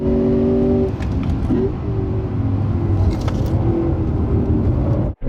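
A 2016 Lexus GS F on a hot lap around a race track, its engine loud and droning under hard acceleration, with a quick upshift into third and a brief dip before power resumes, recorded close from inside the car.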